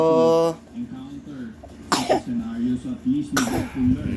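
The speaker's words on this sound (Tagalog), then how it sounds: "Inuubo sila, inuubo. Meron silang sakit." Sick ducks give two short, raspy coughing bursts a couple of seconds apart, with people talking nearby in between.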